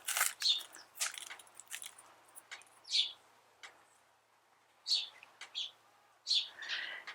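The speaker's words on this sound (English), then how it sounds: "There's sparrows bouncing around to the left of me" Small family of sparrows outdoors near a garden work area, several short bright chirps spaced every second or two, fairly close, with faint rustling between calls and no talk.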